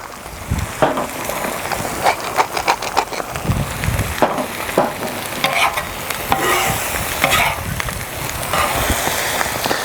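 Eggs frying on a hot Blackstone griddle for backyard hibachi, a loud continuous sizzle and crackle with scraping spatula strokes and taps throughout, close by.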